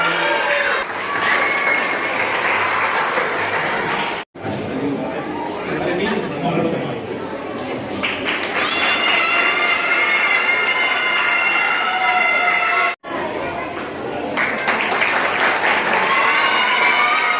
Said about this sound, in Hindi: मंच पर करेगी जोरदार तालियों से।